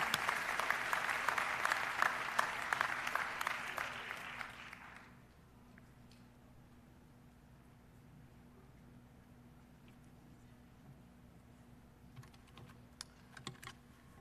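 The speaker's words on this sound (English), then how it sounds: "let's give one big round of applause to all our Distinguished Dissertation Award winners" Dense applause from an audience at a university commencement ceremony fills the first few seconds, then fades out to a quiet room with only scattered faint taps.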